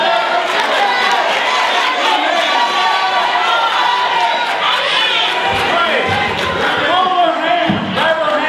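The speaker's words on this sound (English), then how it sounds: "So cheer him on. Cheer him on." A live crowd at a business convention cheering someone on, with a dense, continuous roar of shouts, whoops and chatter that stays loud and close throughout.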